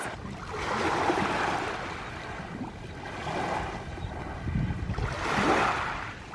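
Sea waves washing onto a shore in a steady rhythm, with several swelling surges rising and falling over about six seconds, fairly loud and close, under an open-air wind-like rush with no talking.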